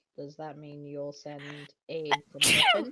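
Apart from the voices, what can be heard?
sneeze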